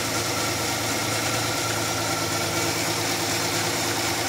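Car engine idling with a faulty AC compressor, a steady, loud, continuous mechanical drone and rattle close up with no pauses.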